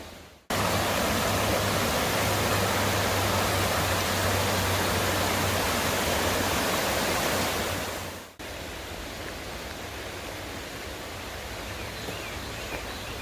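Clear water of the Little Pigeon River rushing and flowing steadily near Gatlinburg, a loud broadband roar filling the scene, with a brief drop partway through before continuing.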